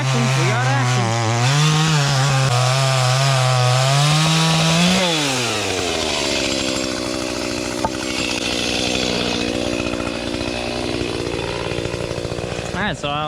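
Chainsaw cutting at the base of a backyard tree, a loud steady snarl that bogs down and shifts pitch as it bites into wood, running close for the whole stretch with a voice over it.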